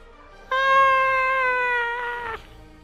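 A person screeches in imitation of a pterodactyl out of fright, one loud sustained high-pitched wail lasting under two seconds, close and alone.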